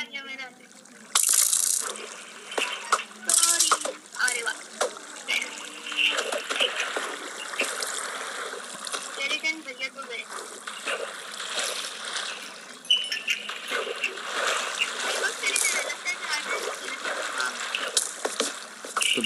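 Water splashes and trickles continuously while swimming in the Minecraft video game, a busy, hissing wash with occasional brighter splashes, moderately loud throughout with no talk over it.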